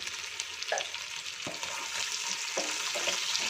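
Boiled potatoes frying with salt and turmeric over medium heat, a bright continuous sizzle with spatula scrapes and stirring knocks, close and steady throughout.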